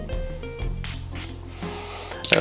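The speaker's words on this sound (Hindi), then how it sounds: "अब मैं आपको इसका एटोमाइज़र दिखा देता हूँ" A perfume bottle's atomizer for Thara al Oud by Ard al Zaafaran gives two quick, close puffs of spray over a low steady background hum.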